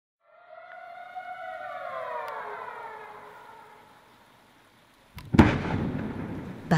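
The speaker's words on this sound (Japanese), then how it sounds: "爆音が広大な石切り場に響き渡り、大きな原石が宙を舞います。" Rock blasting at the Inada granite quarry: a falling, wavering warning siren fades out, then a single loud, sharp explosion booms and rumbles across the wide stone quarry.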